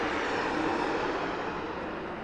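A Southwest Airlines plane arriving at Las Vegas Harry Reid International Airport gives off a steady, loud, broadband jet engine roar with no breaks.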